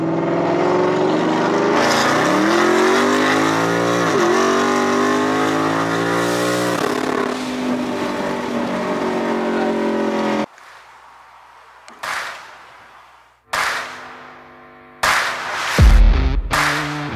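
Procharged 5.0 Ford Mustang S650 accelerating hard, a loud roaring engine climbing through revs with quick gear changes, then dropping away before several short, sharp bursts of revving separated by pauses.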